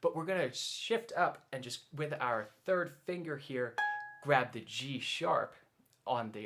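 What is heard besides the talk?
None of the usual background noises is heard.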